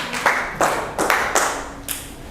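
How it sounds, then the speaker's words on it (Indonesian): An audience at a group presentation claps for group 3, with a handful of sparse, separate claps spread across the moment, close and moderately loud, and no voices over them. "Boleh tepuk tangan ya untuk kelompok 3 ya"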